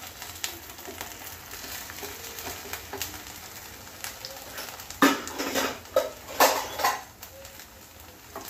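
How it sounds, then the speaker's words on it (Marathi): A homemade snack roasting on a low flame, a soft steady sizzle with the scrape and clink of a utensil as pieces are turned, a few louder bursts near the end. "आता यालाही लो फ्लेमवर शेकून घेऊया।"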